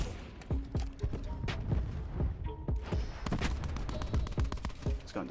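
Rapid gunfire from a shooter video game: bursts of sharp, loud shots in quick rhythm, followed by steadier automatic fire near the end, with a voice talking underneath.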